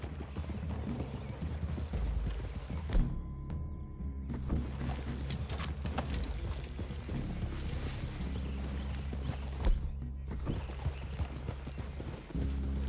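Horses' hooves clip-clop steadily in Red Dead Redemption 2, a continuous rhythmic patter of several mounts over a low game ambience, with a couple of louder thumps and brief dips where the hoofbeats pause.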